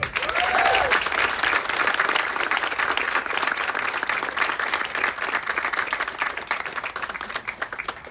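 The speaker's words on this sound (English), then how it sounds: "please give a big round of applause for the internship class of 2021" Sustained applause from a large audience at a family medicine residency and sports medicine fellowship graduation ceremony, dense and steady throughout, with no talking over it.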